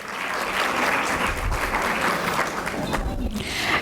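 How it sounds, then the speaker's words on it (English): Parent council meeting audience applauding the executive directors of the Curriculum and Instruction Department: dense, steady applause from a full room, loud and sustained for the whole stretch, with a few voices faintly mixed in. "We can give them a round of applause."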